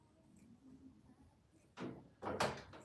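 A door closes indoors: after a faint quiet stretch, a soft bump is followed by a louder, sharper closing thud.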